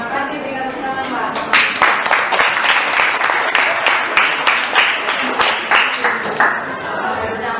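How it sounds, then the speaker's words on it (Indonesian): An audience in a classroom claps loudly and steadily for several seconds, a dense rhythmic burst of many hands close by that tapers slightly near the end. "berikan tepuk tangan, Pak"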